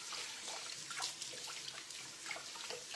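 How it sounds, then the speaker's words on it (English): Tap water runs steadily over hands as gooey dough is rinsed from the fingers in a home kitchen sink, a continuous close hiss with small splashy fluctuations and no talking. "Rinse my gooey fingers off."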